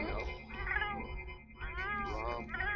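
A Sims 4 video game cat meows in a few drawn-out, wavering calls that rise and fall, fairly close and clear over a low background hum.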